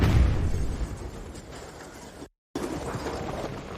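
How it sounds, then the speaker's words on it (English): Animated explosion sound effect, a loud rumbling burst that fades into a noisy roar, broken by a short silent gap before the rumble resumes. "The building was damaged in the explosion."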